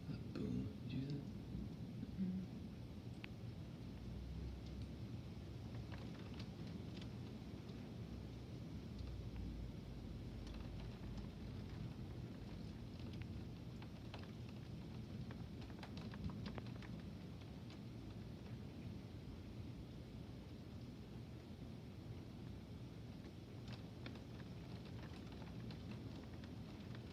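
A morning lightning storm brings a steady hiss of heavy rain throughout, with low rolling thunder rumbling underneath, distant and soft overall.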